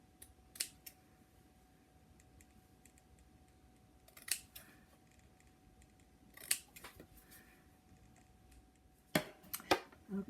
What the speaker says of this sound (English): just starting the cut with my little scissors